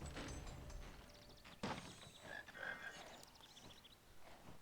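A chocolate frog in the Harry Potter and the Philosopher's Stone game gives a few close, clear croaks alone, with a sharp thump partway through.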